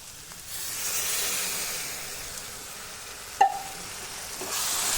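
Tomato paste sizzles in a pan during sautéing, a steady close hiss and crackle that rises and falls, with a brief clink partway through and no talk.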